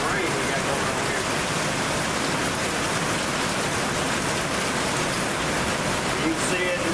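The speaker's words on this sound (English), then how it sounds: "This is the hell of a rain we got going on here." Heavy rain pours steadily outdoors, a dense, continuous close wash of drops drumming on surfaces, with no break for the full stretch.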